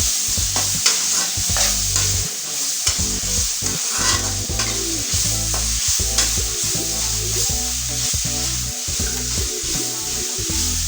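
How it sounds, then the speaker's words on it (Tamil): Ginger garlic paste sautés in a pan on the stove, with loud, continuous sizzling and a steady rhythm of spatula strokes scraping and stirring close up, and no talking. "இஞ்சி பூண்டு பேஸ்ட்டு போட்டு நல்லா வதக்கிக்கலாம்."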